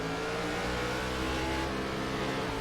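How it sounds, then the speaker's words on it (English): A race car engine in a racing video game revs sharply after a missed shift, a dense buzzing drone with shifting pitch that stays loud and steady throughout, with no one talking. "There you can hear it. That old miss shift."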